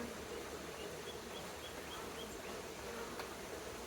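Honeybees buzzing at an opened hive during an inspection, a steady close drone of many bees with no talking.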